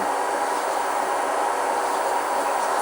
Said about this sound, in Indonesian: si treadmill ini suaranya sangat halus, tapi kalau mulai diinjak suaranya cukup ada kasar gitu